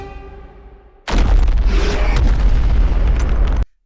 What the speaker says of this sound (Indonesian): Dan bam! Monster pun meledak berkeping-keping.